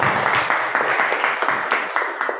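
A classroom group applauding, a dense burst of many hands clapping with irregular rhythm that continues for a couple of seconds, fairly loud, with some voices mixed in.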